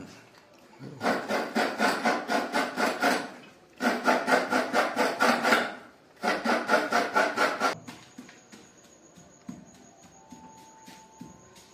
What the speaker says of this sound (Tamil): 3 தேங்காய் 6 பீஸ் இருக்குது. இதை நம்ம அப்படியே திருவி எடுத்துக்கலாம்.